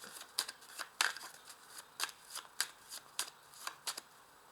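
A deck of 32 playing cards being shuffled, giving a series of crisp riffling bursts in an irregular rhythm, close and fairly quiet, with no talk.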